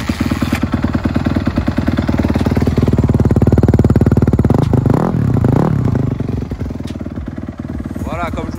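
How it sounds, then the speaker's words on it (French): A motorcycle engine, started cold after being put back in order, fires up and runs loudly with a steady harmonic rumble, then settles into idle with some mechanical clatter. "D'ailleurs, on va faire un petit démarrage."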